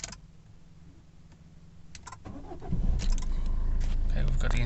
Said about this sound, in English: Okay, we've got the engine started.